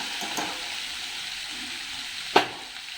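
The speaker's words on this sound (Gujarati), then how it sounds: "પહેલાં સૌ પ્રથમ લસણ નાખવાનું" Garlic dropped into hot oil for a Kathiyawadi mung vadi vegetable curry, giving a steady close sizzle with a few soft clinks and one sharp tap near the end, no voices.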